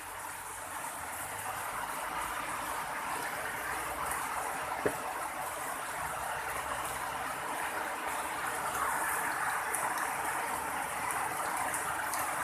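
Steady rain hisses and patters evenly throughout, a continuous wash of sound with no voices.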